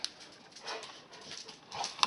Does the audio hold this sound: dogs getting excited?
yes